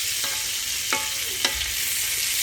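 Butter sizzles in a pan that holds drippings for gravy, a steady bright hiss broken by three short scrapes of stirring, close and loud with no talking.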